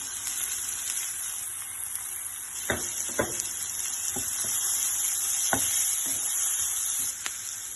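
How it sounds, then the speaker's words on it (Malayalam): Onions frying with masala in a pan, a constant hissing sizzle with a handful of scattered stir scrapes and taps, fairly soft and close, without speech. "എന്നിട്ട് നന്നായി ഇളക്കി കൊടുക്കാം."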